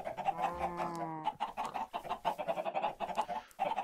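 Chickens in a video game cluck close up in a busy, irregular run of short squawks, opening with a drawn-out crowing call, lively and continuous with no talk over it.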